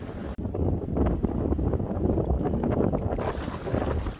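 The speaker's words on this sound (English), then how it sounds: "I'm going to apologize for the wind sound" Heavy wind buffeting the microphone on a lake with whitecaps during a canoe trip, a loud continuous low roar with gusty rumbles, and water splashing faintly beneath it; no one speaks.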